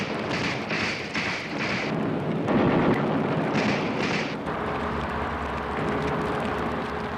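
Artillery bombardment during an Allied beach landing, with guns, mortars and rocket launchers firing: dense, continuous rumbling blasts and booms merge into a loud, sustained roar with no gaps between them.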